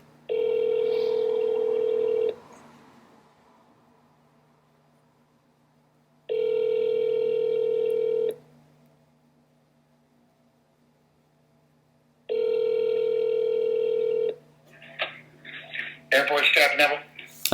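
A telephone call ringing out, with three long, evenly spaced ringback tones separated by silences, followed by a brief burst of sound as the call reaches voicemail.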